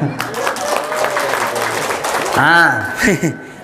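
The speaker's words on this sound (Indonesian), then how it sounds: "Tepuk tangan dulu." An audience at a religious gathering claps together in a steady burst of applause, then a voice begins speaking as the clapping continues underneath.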